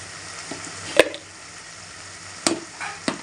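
Tomatoes and chili powder cook in a chicken curry with a faint simmering hiss, broken by a few sharp clinks and scrapes of a spoon against the pot.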